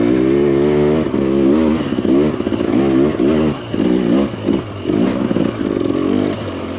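A Husqvarna TE300 Pro dirt bike sounds loud and close as it runs, its engine revving in bursts that rise and drop with each gear shift, with some clatter between pulls.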